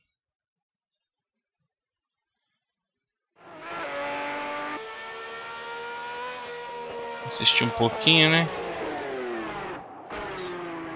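An exotic race car's engine revs and drones in the racing game Project Cars 2 on PlayStation 4, starting after a silent stretch, with pitch climbing, brief tire squeals and a couple of shifts while someone talks over it.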